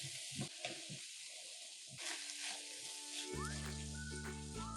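Corn, milk, sugar and consommé being stirred in a pan, a soft wet sizzle with light scraping strokes, then a steady background hum and whistling tones toward the end.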